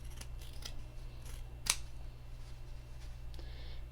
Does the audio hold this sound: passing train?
no